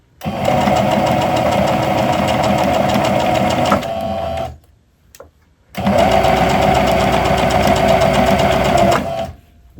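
Sewing machine stitching fabric for a DIY Halloween pet bandana, running in a steady close buzzing whir for about four seconds, a brief pause as the fabric is pivoted, then a second equally loud stitching run.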